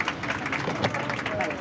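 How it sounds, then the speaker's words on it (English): Passengers aboard an Easyjet aircraft give a brief burst of applause in the cabin, quick scattered clapping over the low engine and cabin hum, with voices mixed in. "please feel free to give him a nice round of applause"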